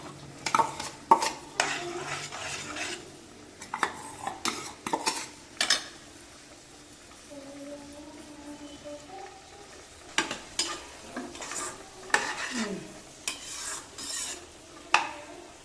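Soaked varagu (kodo millet) rice pours and rattles into a pot of boiling water amid scraping and stirring clatter of a utensil against metal, with bursts of activity separated by quieter bubbling.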